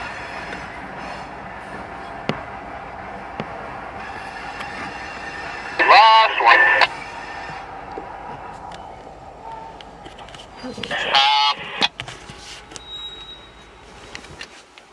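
Freight train hauling CSX hopper cars through a rail yard, a continuous rumble of rolling cars with two loud bursts of high wheel squeal, some radio-like chatter and scattered clanks in the background.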